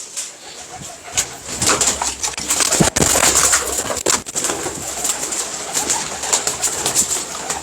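Pigeons kept in a loft cooing steadily, several birds close by with soft repeated coos and some rustling, no speech.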